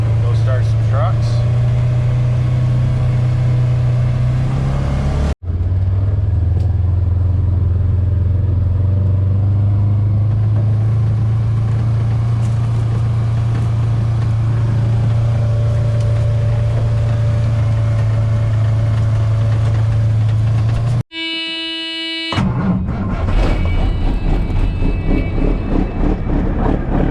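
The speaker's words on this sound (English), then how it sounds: "Go start some trucks." Trucks are started and left idling to warm up on a farm on the first day of corn harvest, giving a loud, steady low engine hum with a brief cut and a restart near the end.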